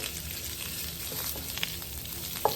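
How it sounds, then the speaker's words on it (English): Shrimp for pad thai fry in a pan with a steady, close sizzle, broken by a couple of faint scrapes and a small clink near the end. "I'm just letting my shrimp cook through"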